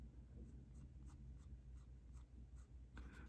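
A pencil scratches on paper while a portrait is sketched, with quiet, close, rhythmic strokes roughly every third of a second throughout.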